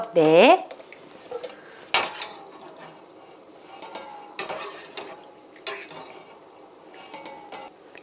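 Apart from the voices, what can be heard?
sliced squid blanched in boiling water, scooped out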